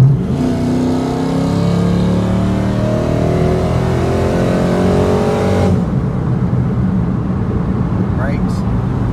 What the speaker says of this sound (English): we're gonna run it back, the Maxima versus this truck on three